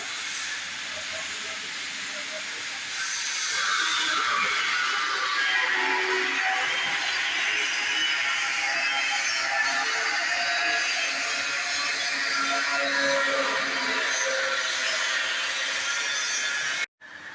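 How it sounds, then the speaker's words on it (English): An industrial lumps grinder with a 19-inch screen crushing PP plastic lumps, a loud, continuous harsh grinding roar with a hissing edge that stays steady throughout and cuts off abruptly at the end. "PP lumps grinding"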